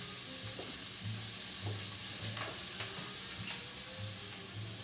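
Steak searing in a hot pan on its second side after being flipped, with bacon cooking nearby, a steady loud sizzle with faint crackles and a few soft utensil taps, no speech.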